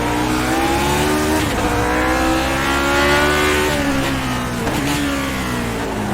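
A Lotus 49 race car in iRacing at Okayama screams at high revs, then drops pitch through a downshift to second gear as the front brakes lock up, with the engine note sliding down before climbing again, loud and up close.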